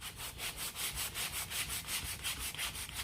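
An aluminum car part on a Volkswagen Beetle is hand-sanded with 320-grit sandpaper in quick, regular back-and-forth strokes, a close, even rasping rhythm of about three strokes per second with no talking.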